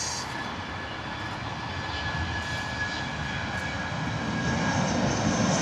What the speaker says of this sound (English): there's beautiful American 777 taxiing out towards us